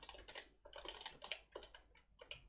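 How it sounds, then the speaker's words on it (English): Rapid typing on a computer keyboard while coding a text editor, a close, dense run of keystroke clicks in irregular bursts with brief pauses, no voices. "maybe I was typing too fast"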